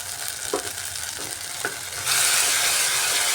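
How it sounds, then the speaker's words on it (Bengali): Ground turmeric, cumin and coriander sizzle in a hot pan, a steady broadband fry with a few soft stirring clicks, swelling louder and denser about two-thirds through; no voices. "এটা দিয়ে মশলাটাকে ভালো করে কষিয়ে নিতে হবে"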